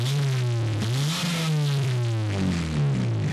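A nearby 1998 Honda Civic engine revs up and down with a rough, rasping exhaust note from an exhaust leak, the pitch rising and falling over a few seconds.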